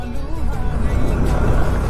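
A TVS Ntorq 125 scooter engine runs steadily while riding, a continuous close mid-loud drone with road noise underneath and no break over two seconds.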